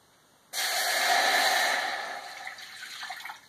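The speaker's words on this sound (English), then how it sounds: "you're going to add 1 cup of water" Water pours into a small saucepan on a stovetop burner set to high, a sudden loud splashing rush that starts abruptly, holds for about two seconds, then thins into a lighter trickle.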